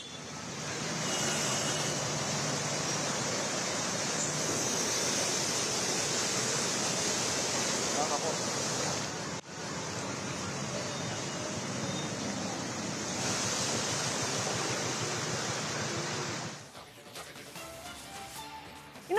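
Heavy rain and rushing floodwater in Himachal Pradesh make a dense, loud, unbroken roar that holds steady, breaks briefly midway, then drops off near the end.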